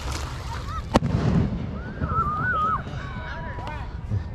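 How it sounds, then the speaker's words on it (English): A single sharp firework bang goes off outdoors nearby on the 1st of July, one brief crack set against steady background noise, while people talk. "people are setting off fireworks around here"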